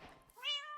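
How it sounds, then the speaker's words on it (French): A single Minecraft cat meows once, short and close, with clear rising harmonics after a brief muffled thump. "Oh, un chat."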